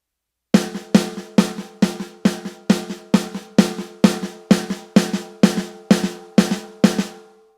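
Drum single stroke roll played unevenly, fifteen sharp resonant hits at a steady moderate pace with alternating loud and softer strokes, close and alone.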